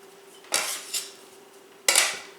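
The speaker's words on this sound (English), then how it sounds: "take your bench scraper and fold the dough over on itself." A bench scraper scrapes and folds sticky hand-kneaded French sandwich bread dough in a mixing bowl, making three short, close scraping clatters against the bowl with quiet pauses between them.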